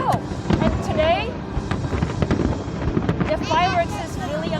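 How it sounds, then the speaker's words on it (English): Fireworks at the Kaohsiung lantern festival: repeated crackling bursts and rising whistles, steady and loud at a distance, with crowd voices and wind over the microphone throughout. "Wow, the fireworks!"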